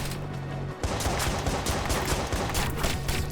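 Rapid bursts of gunfire from the Watch Dogs video game, loud and dense, follow a short lead-in of lower rumbling and run continuously to the end.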